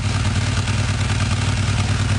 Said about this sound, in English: Now, will this Ducati keep running?